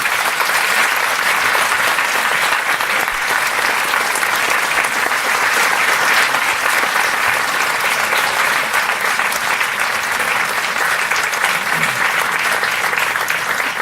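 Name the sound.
audience applauding the speaker Ramon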